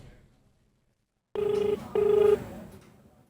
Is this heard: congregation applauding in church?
no